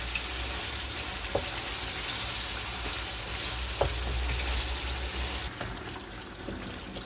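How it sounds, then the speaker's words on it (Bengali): Meat fries and browns in a pan, giving a steady close sizzle with a few faint clicks of stirring and no talk. "মাংসটা কষানো হয়ে গেছে"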